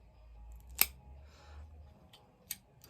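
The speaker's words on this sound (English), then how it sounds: "Go ahead and cut this." A cigar cutter snips the cap off a cigar: one sharp, close click-snap, followed later by a second fainter click in an otherwise quiet room.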